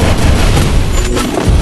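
A grenade blast in a Free Fire-style battle royale mobile shooter, heard as a dense, loud burst of booming, crackling noise that fills the whole short moment without a distinct single pop.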